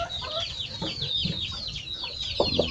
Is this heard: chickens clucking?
yes